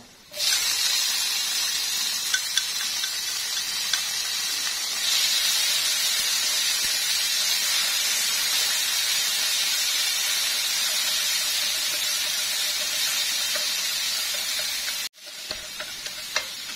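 Tomatoes fry in a hot pan for braised pork belly with lime leaves, a steady bright sizzle and hiss that holds evenly for about fifteen seconds before cutting out, then resumes more faintly.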